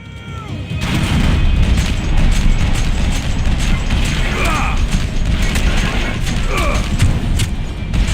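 Gunfire in the video game Max Payne 3, a steady dense clatter of shots and mechanical action running loud and continuous throughout, with occasional heavier booms mixed in.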